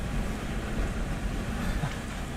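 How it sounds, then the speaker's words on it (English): Steady, blustery wind from Hurricane Nicholas at landfall roars across the microphone on Surfside Beach, Texas, in a constant low rumble, with no clear gusts or breaks. "it's gonna be too windy"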